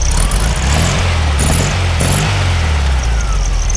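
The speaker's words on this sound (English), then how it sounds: "But go ahead and rev it up a couple more times." Engine of a 1965 Volkswagen Cabriolet Beetle revving up close, a loud continuous rumbling drone with a few rising swells as the throttle is blipped, no talking.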